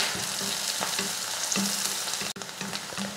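Onion, green chilli and curry leaves sauté in oil with mustard seeds, giving a steady close sizzle with repeated rhythmic spatula scrapes and clacks, with one brief gap.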